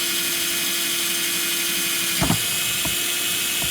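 A steady high-pitched drill whine runs throughout, close and continuous, with a couple of faint knocks partway through.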